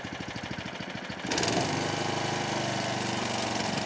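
Small petrol lawn mower engine sputtering unevenly at first, then catching and running steadily and loud after a cold start on a chilly winter day, with choke on.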